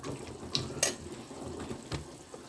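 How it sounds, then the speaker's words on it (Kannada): Water is poured into a pot of vegetables and rice for pulao, a short, soft splashing pour with a few small splashes, quiet and close, with no speech. "ಇದಕ್ಕೀಗ ನಮಗೆ ಎಷ್ಟು ನೀರು ಬೇಕೋ ಅಷ್ಟು ನೀರು ಹಾಕ್ಕೊಳ್ಬೇಕು."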